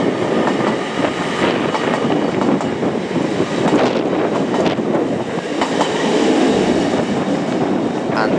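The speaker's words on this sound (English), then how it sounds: "1417 absolute flop from Edinburgh to London King's Cross, departing 5 minutes late." A train on the Edinburgh to London King's Cross service passes through York station, with a loud, steady rumble and clatter of wheels on rails close by throughout.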